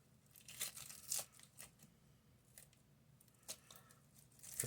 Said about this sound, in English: The skin comes off really easily when you cut the onion in half.